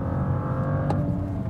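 A 2014 BMW 435i in Sport Plus mode pulls hard toward redline, its engine a steady, dense drone with no let-up through the whole short stretch, heard from inside the car with no talking.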